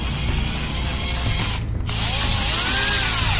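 A new electric drill set to tightening mode runs with a loud, steady whir, breaks off briefly near the middle, then resumes with a rising, ratcheting tone.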